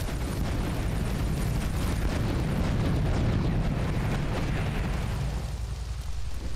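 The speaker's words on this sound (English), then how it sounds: "Oh, why has he not died in the explosion?" An explosion in Grand Theft Auto 3 fills the scene with a dense, loud roaring rumble that holds for several seconds before easing slightly at the end, with no voices.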